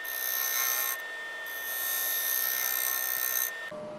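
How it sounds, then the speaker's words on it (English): A bowl gouge shear-scraping a wooden bowl spinning on a lathe, a continuous close hissing scrape with a steady high whine, pausing briefly once before resuming and then stopping. "getting a shear scrape on there, using it more or less like a bowl gouge"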